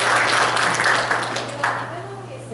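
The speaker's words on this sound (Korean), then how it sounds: "저 다시 한번 이원달 교수님께 박수 드립니다." An audience at a forum applauds Professor Lee Won-dal, a dense burst of clapping that fades over a couple of seconds as talking carries on underneath.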